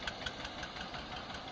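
An Eicher 241 tractor engine runs with a rhythmic diesel knock, each beat thudding at a steady, quick pace, close and fairly loud with no voices.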